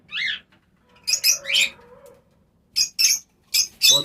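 Pet lovebirds at a home breeding aviary in Udaipur give short, bright chirps and tweets in scattered bursts, near and fairly loud, with brief pauses between calls and no talking.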